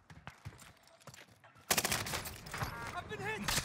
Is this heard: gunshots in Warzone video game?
yes